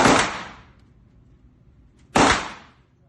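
Two sharp pistol shots fired during basic handgun shooting training, each a loud crack with a short decaying tail, about two seconds apart, with no talk between them.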